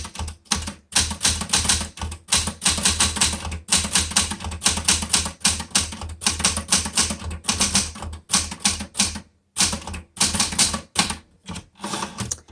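Someone types on a blue Smith Corona Galaxie Twelve typewriter with tight keys and a small 12 CPI typeface. Its close, crisp, rapid key strikes come in bursts with brief pauses, and no one speaks.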